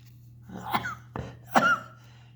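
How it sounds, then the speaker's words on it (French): A few short, harsh coughs, close up, over a steady low electrical hum. "Excusez-moi. J'ai la toux."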